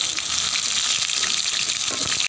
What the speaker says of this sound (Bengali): সয়াবিনগুলো ভেজে নেব